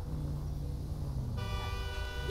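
A car horn in GTA 5 honks in a sustained blast at a dog over a rumbling engine, with the synthetic, even tone of game audio.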